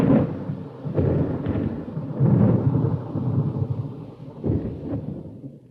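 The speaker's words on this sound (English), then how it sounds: "They badly wanted the sound of a storm in the canyon" Deep rolling thunder from a storm in the Grand Canyon rumbles in long, echoing waves, several low booms swelling and fading across a wide open space, with no voices.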